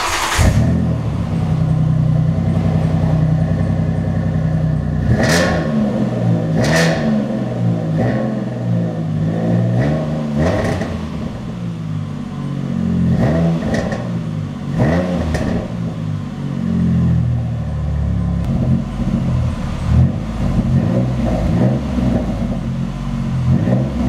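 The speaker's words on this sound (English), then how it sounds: "if you rev your engine, you'll hear popping noises." A car engine revs repeatedly at close range, with sharp transient bursts suggesting exhaust pops between the revs, and a steady rumbling idle running throughout.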